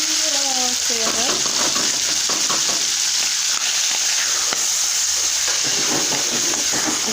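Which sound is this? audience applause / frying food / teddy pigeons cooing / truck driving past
frying food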